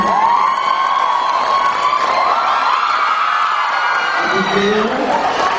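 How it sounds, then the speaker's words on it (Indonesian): A seminar audience cheers and shouts loudly and continuously, with whoops and children's voices rising over the noise. "boleh kasih tepuk tangan"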